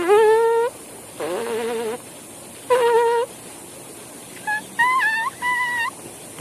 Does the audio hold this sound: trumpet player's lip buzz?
yes